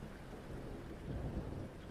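Steady rain with a low rumble of thunder in a dark horror cartoon scene, a faint, continuous wash of noise heard alone for a couple of seconds.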